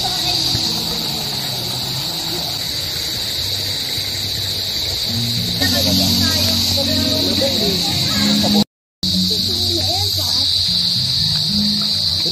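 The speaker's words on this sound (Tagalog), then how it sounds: "Inaririnig mo yon, kuliglig?" Crickets chirp at a rural spot in Maragondon, Cavite, a continuous high, shrill buzzing drone that runs steadily throughout while people talk nearby.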